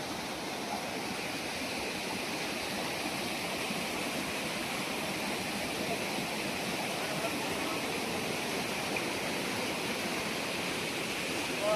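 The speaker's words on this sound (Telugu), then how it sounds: "అది వాటర్ ఫాల్స్" Continuous roar of a waterfall arranged inside the Anasuya Matha temple premises, a dense unbroken hiss of falling water holding steady and fairly close throughout.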